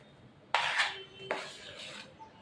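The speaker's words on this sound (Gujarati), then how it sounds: "અને એક જ બાજુ હલાવતા રહેવાનું, જેનાથી બરોબર બધું મિક્સ થઈ જાય." A metal spoon scrapes and clinks against a pan while stirring an adadiya mixture, two short, quiet bursts of scraping with silence between.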